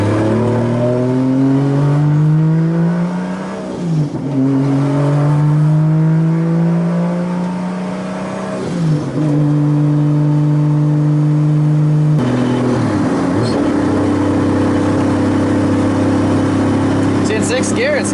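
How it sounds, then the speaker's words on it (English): Revving engine of a 2JZ-swapped Nissan 240SX drift car on the street, its clutch chattering at low speed; a loud, steady engine drone with rising and falling pitch sweeps and shifts, with no talking over it. "Hear the clutch chattering and doing all kinds of..."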